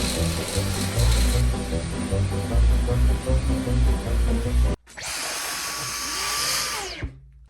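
Dyson cordless vacuum cleaner running: a loud, steady motor whir with rattling for nearly five seconds, a sudden cut, then a smoother, higher whine that holds and winds down near the end.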